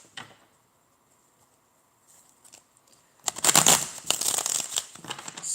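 Tarot cards being shuffled by hand, a dense rustling, riffling burst that starts after a few quiet seconds with faint handling sounds, then continues close and fairly loud.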